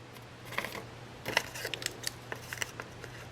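Scissors cutting through card, a few crisp snips and small clicks at close range, fairly quiet over a low background hum.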